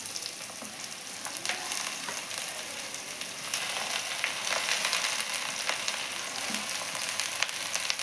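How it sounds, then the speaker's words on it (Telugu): Amaranth leaves and onions frying in oil for a potato and amaranth stir-fry, giving a steady, close, bright sizzle with small crackles and pops throughout, no voices. "మిగతాది తోటకూరలో ఫ్రై అవుతుంది కదా, అందుకని నేను తోటకూర పెట్టేస్తున్నాను ఇప్పుడు"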